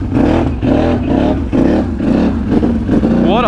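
A four-wheeler ATV engine revs hard in repeated surging pulses, loud and close, while it churns through a flooded backyard.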